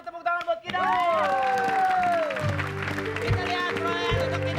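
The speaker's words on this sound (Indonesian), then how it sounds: "kasih tepuk tangan buat Kidaus" A studio audience at an Indonesian TV comedy show bursts into sustained applause and cheering after a brief pause, loud and continuous with crowd hubbub and musical tones underneath.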